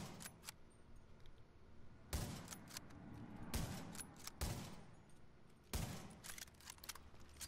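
A bolt-action rifle firing in The Division, with loud single shots a second or so apart over quieter mechanical clatter and game background sound.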